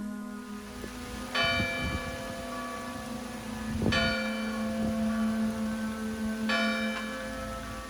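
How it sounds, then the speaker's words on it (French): Abbey church bells toll several times at dawn with long ringing decays, distant and resonant over a low steady hum. "Au loin, les cloches de l'abbaye commencent à sonner l'aube."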